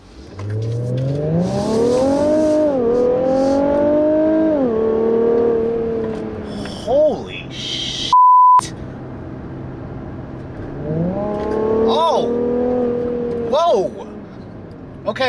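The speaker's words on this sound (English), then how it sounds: "A lot of you have definitely asked if this new VR motor sounds any different versus the VQ" Infiniti Q50 Red Sport 400 with its VR engine revving hard, rising through the revs in two long pulls with blips in between, loud and close, briefly broken by a short tone.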